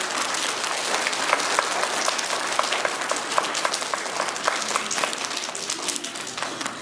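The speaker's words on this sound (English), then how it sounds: "Let's give ourselves one big last round of applause." A school assembly gives itself a long round of applause, many hands clapping in a dense, steady roar with a few sharper individual claps standing out, holding level for several seconds.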